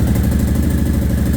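A 2003 Harley-Davidson V-Rod engine runs close and loud with a steady, throbbing low rumble and mechanical clatter, like it has just started and settled into idle.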